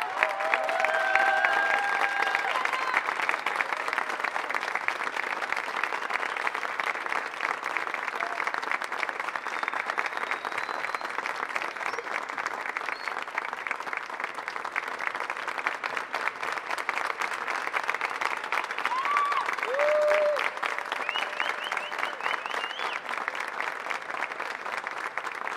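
An audience at a choir's tenth-anniversary concert applauds continuously and evenly for a long stretch, a dense, steady wash of clapping with faint background murmurs.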